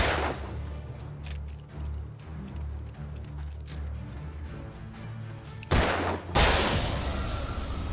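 Loud gunshot bursts in the video game Alan Wake, sharp blasts with a ringing tail near the end, after a stretch of quieter clicking and rumbling game sounds.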